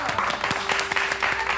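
An audience, apparently children, claps briefly after a story performance, with a scattering of distinct hand claps mixed with voices talking over them.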